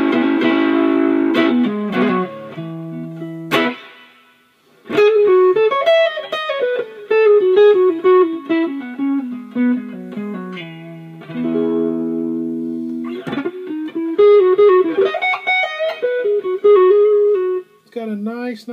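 Electric guitar on the neck pickup through a Visual Sound Jekyll and Hyde overdrive pedal plays a warm, rounded melodic phrase with sustained notes and slides, a brief pause midway, then continues with chords.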